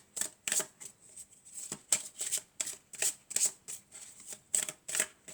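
Tarot cards shuffled by hand in quick, steady riffling bursts, close and fairly loud, with crisp papery rustles repeating many times and no talking over them.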